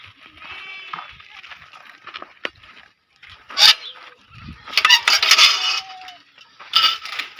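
Lambs being fed barley bleat in several loud, overlapping bursts close by, with a metallic clink, scattered feed sounds and someone speaking in between.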